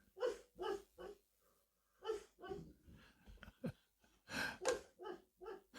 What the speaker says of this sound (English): That's my dog dreaming in the background.